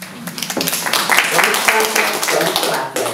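An audience claps at a poetry reading, a loud, irregular patter of many hands close by, with voices mixed in throughout.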